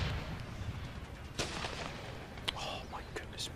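Gunners firing artillery in Empire Total War, a steady roll of distant battle noise broken by several sharp cannon reports near the middle and end, with faint voices in the background.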